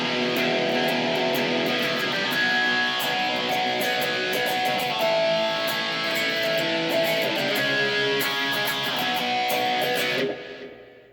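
A distorted electric guitar plays the chorus of a song, a steady, dense strummed chord progression, loud and sustained, cutting off abruptly near the end.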